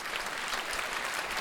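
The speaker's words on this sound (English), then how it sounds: "So let's give them a round of applause for supporting this event." Faint, steady applause from an audience at a wellness forum thanking the event sponsors, a brief even patter of many hands with no clear peaks.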